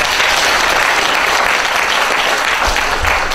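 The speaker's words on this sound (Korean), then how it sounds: "힘찬 박수 부탁드리겠습니다" An audience applauds vigorously at a 2014 book concert in Jeju, a dense, loud, steady clapping that fills the whole stretch without pause.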